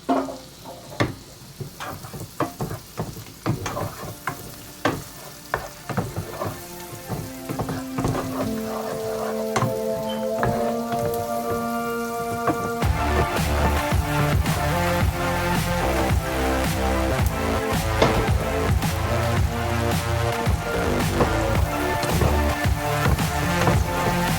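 Tomatoes and baby spinach sauté in a pan as an omelette filling, a steady sizzle that grows louder and denser halfway through, with tonal ringing sounds layered over it.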